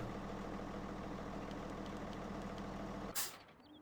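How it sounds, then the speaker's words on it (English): A truck in Farming Simulator 17 being driven out of a garage, heard as a steady low engine rumble that ends in a sharp hiss of air brakes, after which it goes quiet. "And I can get the truck here out of the garage now."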